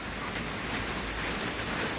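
Heavy rain pouring down steadily on surfaces outdoors, a dense, even roar of drops close by, alone with no voices.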